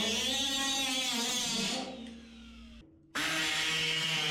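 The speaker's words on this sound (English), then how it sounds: "So we're gonna get that cut out like usual with the cutoff disc." Cutoff disc slicing out rusted sheet metal on a Datsun 280Z body, a loud steady high whine that sags as the disc bogs into the cut, drops out briefly, then snaps back at full speed.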